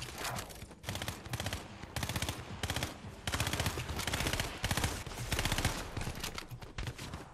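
Rapid bursts of automatic gunfire from a Fortnite match, loud and dense, coming in repeated volleys with brief gaps across the whole stretch, with no talking.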